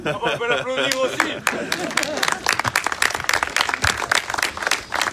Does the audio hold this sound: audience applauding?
yes